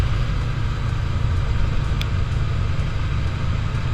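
A steady, loud low engine rumble from a Yamaha motorcycle, a drag-style road bike, that holds evenly throughout, with no speech.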